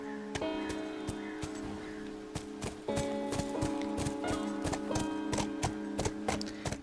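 Horse hooves clip-clopping while riding in The Last of Us video game, a steady rhythmic patter of hoofbeats over a dense game soundtrack, with no talking.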